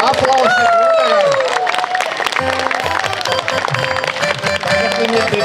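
Applause and cheering from a gathered audience at a birthday greeting for a shop manager in Lauberē, dense and continuous over music and crowd noise throughout.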